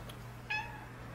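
A single short cat meow, fairly clear and close, rising briefly over a steady low room hum in an otherwise quiet indoor space.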